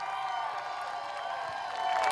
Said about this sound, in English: Nice round of applause, Birch Run fans.